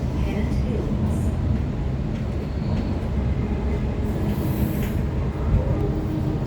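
Sydney Trains T9 A-Train electric passenger train running between Epping and Hornsby, a continuous low rumble and rolling rail noise heard from inside the carriage, steady and fairly loud throughout.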